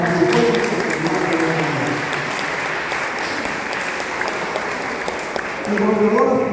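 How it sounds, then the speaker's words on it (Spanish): An audience claps for a governor at a gathering of a Guerrero migrant clubs association, a dense sustained round of applause from a crowd with voices mixed in, swelling near the end. "voy a pedir un aplauso"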